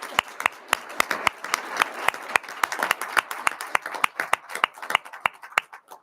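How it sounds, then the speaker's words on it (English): A small audience at a board of education meeting claps in a steady, loose round of applause lasting several seconds, with sharp individual claps standing out near the microphone. "please join me in a round of applause, everyone"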